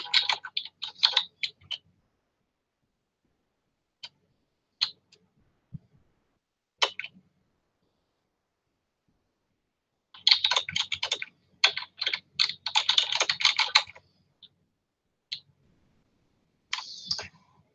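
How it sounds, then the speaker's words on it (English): Computer keyboard typing in quick bursts of clicks separated by long silent pauses, close and clear with no talking. "let me type this in and see if I can"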